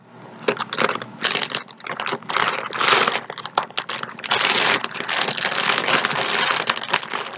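A tough plastic package for a Blippo Kawaii DIY unicorn colouring bag crinkles and crackles loudly and continuously as it is handled and pulled open up close, with no talking.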